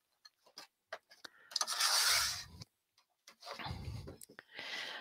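Scissors trim the edges of handmade journal pages, soft rustling snips and rubbing scrapes coming in short bursts at close range, with quiet gaps in between.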